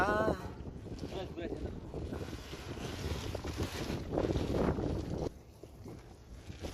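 A wooden boat runs under a raised sail, wind buffeting the microphone over rushing water and waves, with voices talking throughout before the gusting eases near the end.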